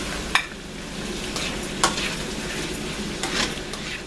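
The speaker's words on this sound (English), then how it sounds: "You're going to saute for maybe 3 minutes, and this is on medium-high heat." Corned beef stew sautés on medium-high heat, a steady close sizzle broken by a few sharp scrapes and clanks of a spoon stirring the pan.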